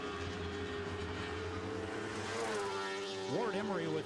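Lightning Sprint open-wheel race cars screaming past at high RPM during a feature race, a steady engine drone with rising and falling pitch sweeps as cars pass, a commentator talking over it.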